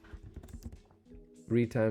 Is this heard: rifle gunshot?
no